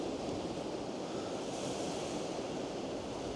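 Choppy sea waves wash against the Blackpool seawall as a constant, dense, broadband rush, with wind across the microphone and no distinct breaks.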